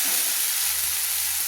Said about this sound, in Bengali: দিয়ে আমি ভালো করে মশলাগুলো কষিয়ে নিচ্ছি।